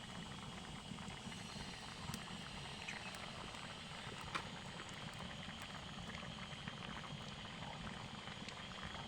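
Rice boils in a pot with two eggs cooking alongside, a continuous close bubbling and popping patter that holds steady throughout.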